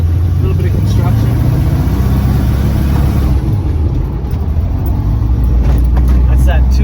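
A 1936 Ford street rod with a 283 engine and 700R transmission rolls along a rough road, its engine a steady low rumble throughout with people talking over it.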